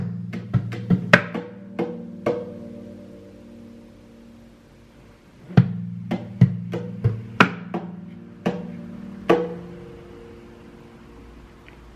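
Percussive hits slapped on an acoustic guitar body as hi-hat strokes, grouped in quick triplet bursts with ringing strings beneath; a busy flurry first, a pause, then a second run of sharp taps.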